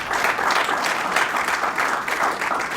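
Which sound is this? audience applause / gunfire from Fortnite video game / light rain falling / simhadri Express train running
audience applause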